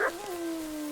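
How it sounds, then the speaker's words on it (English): A dog in the medieval game Kingdom Come: Deliverance 2 gives one short, whining bark-like yelp that trails off into a sustained tone. "Shut up, dog."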